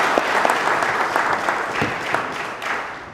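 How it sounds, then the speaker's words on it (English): An audience at a stakeholders meeting claps in a dense, sustained round of applause, close and fairly loud, with individual claps standing out briefly over the wash before it begins to thin. "Let's give another round of applause."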